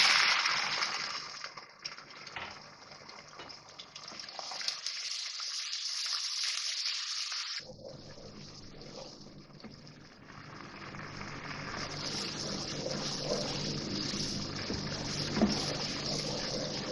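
Garlic-ginger paste sizzles steadily in a cup of hot oil for beef nihari, a continuous close frying hiss that briefly thins partway through before swelling again.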